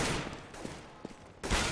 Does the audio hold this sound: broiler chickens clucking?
no